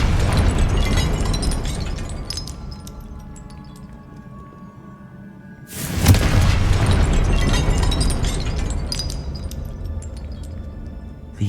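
Confringo spell explosion in the video game Hogwarts Legacy: a loud, sudden boom bursts out midway through, preceded by busy game ambience and followed by a sustained rumbling roar.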